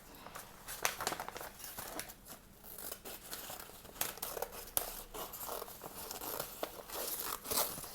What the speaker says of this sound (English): now cut the shape.